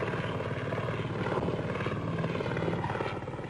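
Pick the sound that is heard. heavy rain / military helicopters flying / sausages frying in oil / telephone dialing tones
military helicopters flying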